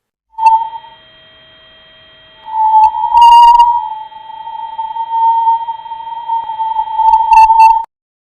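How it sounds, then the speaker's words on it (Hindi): A sonified recording of the Sun: a steady electronic tone hums continuously, with brief bright pinging bursts layered over it, sounding eerie and synthetic, like a sonar drone. "ये आवाज सूर्य के वातावरण में पार्टिकल के गर्म होने से पैदा होती है"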